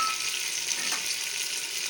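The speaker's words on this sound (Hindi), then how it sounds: "अब हम ये शामिल करके इसे थोड़ी देर भूनेंगे।" Chicken chana fries in a pan with cumin, coriander powder, turmeric and chili, a steady, close sizzle with a faint stir partway through, no talking.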